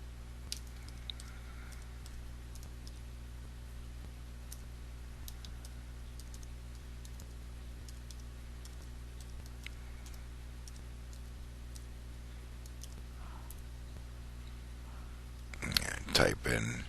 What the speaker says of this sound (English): here's where we type in the actual URL